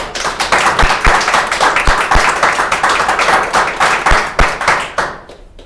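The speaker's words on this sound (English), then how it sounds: "I think that deserves a round of applause" Audience applause at a county commissioners meeting, close and fairly loud, with distinct individual claps and a few sharp hand taps standing out, tapering off abruptly near the end.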